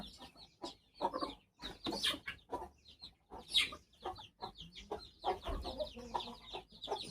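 Chickens clucking on a farm, several birds giving short repeated clucks and calls at close range, irregular and busy, with a rooster-like call among them and no talk.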